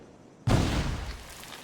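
A sudden booming blast in Assassin's Creed Rogue, as a door is shot open, bursts in after a quiet moment, then its roar lingers and slowly fades.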